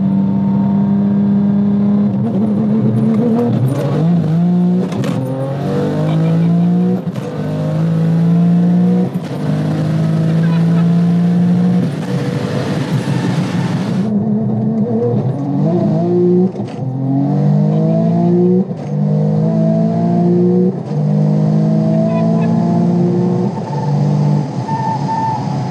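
Manual 1200-horsepower Porsche 911 Turbo AWD pulling hard, its engine note climbing steadily through the revs, dropping briefly at a flat-foot 5-to-6 upshift without lifting, then rising again; loud, close and continuous throughout.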